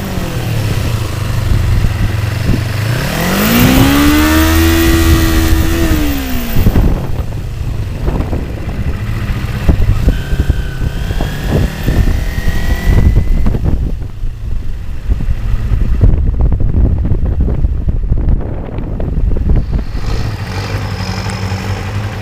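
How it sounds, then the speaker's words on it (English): A car cruises slowly around a small town, its engine humming steadily with rising and falling revs as it shifts and turns, loud and close throughout with no talk. "let's drive around just a little bit more."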